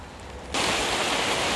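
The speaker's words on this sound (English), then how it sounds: "It's been raining like this every single day since Wednesday." Heavy rain pours onto a greenhouse in Australia, starting abruptly as a dense, steady hiss and roar of drops drumming on the roof, close and loud, with no voices.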